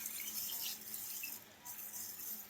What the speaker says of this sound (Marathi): हे बघा, स्वच्छ धुवून घ्यायचे आहेत मूग.